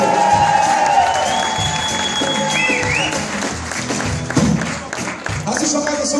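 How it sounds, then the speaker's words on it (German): An audience applauds at a live event, a crowd clapping and cheering steadily at medium distance while a voice talks over the noise. "geben wir mal einen Applaus für Gonzalo, bitte"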